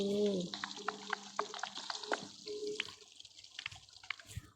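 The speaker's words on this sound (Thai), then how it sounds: "จะขออุดน้ำแป๊บนึงนะครับลำคาญน้ำมากเลย" Water flows and drips in a block-building survival video game while the player digs for ore, heard as intermittent drips and splashes over a low, uneven trickle, with a short tonal sound at the start.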